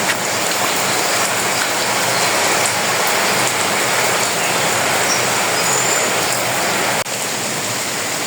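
Heavy rain pours steadily outdoors, a dense, loud, unbroken hiss of drops striking surfaces, with no voices.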